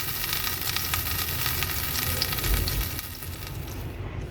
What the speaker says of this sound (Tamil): பட்டரை நல்லா உருக்கிக்கலாம்.